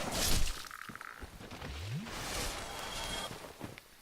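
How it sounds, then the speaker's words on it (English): Frogs croak in the Dark Souls video game, sounding as a few short, low croaks with a rising call near the middle, heard among game ambience without speech. "it leads to some frogs that are pretty annoying"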